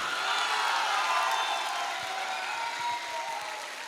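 Audience applause in honour of a mentor at an AWPL award event, a steady, full wash of clapping from a crowd that slowly tapers, with faint cheering.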